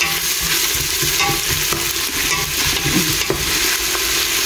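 Mutton dish ingredients sauté in a hot pan with a continuous crackling sizzle and occasional scraping stirs, close and steady with no talking.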